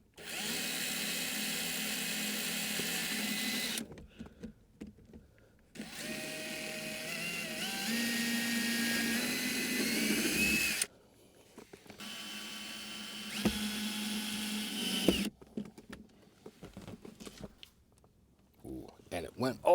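Power drill driving long screws through the metal of a Jeep Gladiator rear-wall storage mount, three long loud whining bursts separated by pauses, close by, with brief speech in the gaps.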